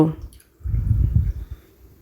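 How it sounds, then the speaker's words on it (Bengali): Water is poured into a bowl of thinly sliced potatoes, a short low gurgling splash with a softer trickle after it, close and alone. "এবার আমি আলুর মধ্যে দিয়ে দিলাম জল"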